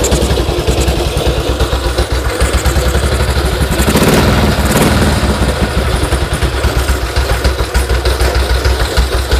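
A BSA side-valve motorcycle engine idles steadily with a rapid, lumpy beat and mechanical clatter, close and loud throughout with no talking.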